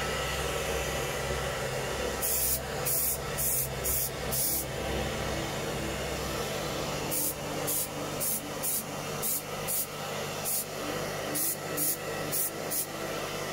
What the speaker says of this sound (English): my homemade extractor for spraying, and what a grand job it's doing